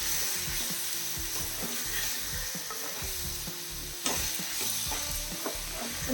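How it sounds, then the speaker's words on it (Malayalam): Four chopped tomatoes frying and being stirred in a pan, a continuous bright sizzle with repeated scraping and knocking of a spoon against the pan, close and steady, one sharper clack partway through. "ഈ നാല് തക്കാളി ഞാൻ കട്ട് ചെയ്ത് വെച്ചിട്ടുണ്ട് അത് ചേർക്കുന്നു ചേർത്തിട്ട് നല്ലപോലെ ഒന്ന് ഇളക്കി കൊടുക്കാം"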